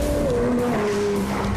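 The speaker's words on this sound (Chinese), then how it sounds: "刚若听到引擎的声" A McLaren 765LT sports car with a twin-turbocharged engine and 7-speed transmission sounds loud and close, its engine note sweeping steadily lower in pitch as it holds a sustained tone throughout.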